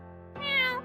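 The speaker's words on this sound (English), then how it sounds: "the first meow of his life broke the silence" A single long, rising cat meow starts after a brief pause and swells loud and close, then tapers off; a steady low hum runs underneath.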